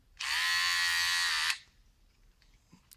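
A Remington MB-200 rechargeable trimmer, just fitted with a new battery, runs with a loud, close, steady buzz for over a second, then cuts off, leaving faint handling noise.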